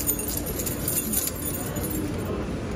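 A bunch of keys jangles on a Warsaw street, bright metallic clinking in irregular bursts that are strongest in the first second and a half, close by, with a faint background hum.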